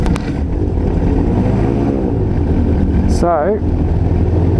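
A microlight aircraft engine starting on a warm afternoon with choke applied: a loud, close, continuous engine drone, with brief speech partway through.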